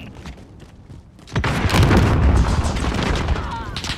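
Heavy booming blasts from RPG launchers and explosions in a Call of Duty clan battle, a quiet stretch giving way to a sustained loud roar of rumbling detonations and gunfire, with a player talking over it.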